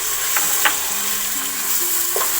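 Tomatoes tipped into frying keema with ginger and garlic, a steady broadband sizzle with a few soft clinks of a spoon against the pan.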